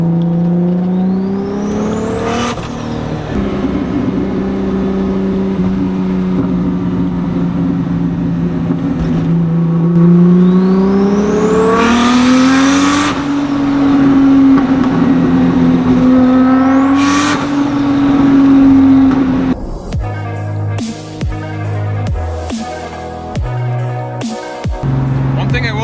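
A Z car cruises on the interstate at about 70 to 80 mph. It makes a loud, steady engine and road drone from inside the cabin, the pitch rising and falling with the revs, then turns rougher and more rumbling near the end.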